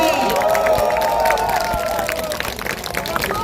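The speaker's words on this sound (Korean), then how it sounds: "준비된 일꾼 우리 이재관 후보에게 뜨거운 박수 한 번 더 부탁드리겠습니다" Crowd at an outdoor election rally in Cheonan for a candidate, cheering and clapping steadily in a dense, continuous roar with scattered shouts over the full stretch.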